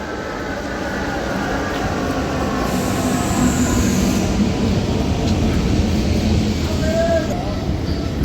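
The Prasanti Express pulls into a station with a loud, continuous rumble of wheels and carriages, steady throughout with faint high squeals near the end.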